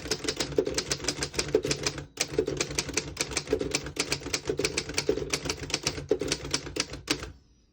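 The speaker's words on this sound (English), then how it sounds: "Beautiful typing machine." Rapid mechanical keystrokes of a 1935 Underwood 11 manual desktop typewriter, a steady clatter with a brief pause and a carriage sound near the end, close and crisp.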